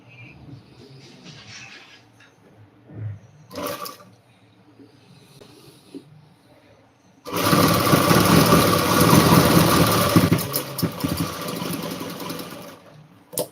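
A sewing machine starts partway through and stitches in a loud, continuous mechanical whir that carries to the end. Before it starts there are only quiet handling sounds.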